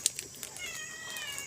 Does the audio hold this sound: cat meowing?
yes